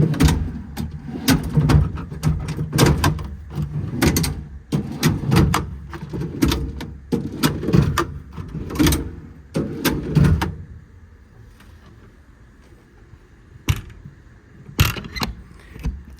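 Metal Dualock tool drawers on a truck service bed slide and clunk open and shut several times in quick succession, followed by a quiet stretch and a couple of final knocks.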